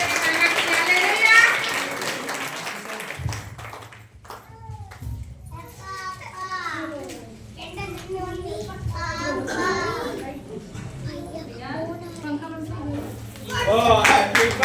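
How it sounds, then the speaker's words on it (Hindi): A church congregation at a birthday prayer gathering claps, a burst of applause at the start and a rise again at the end, with people talking and singing throughout the middle. "जोरदार ताली देंगे परमेश्वर की महिमा के लिए।"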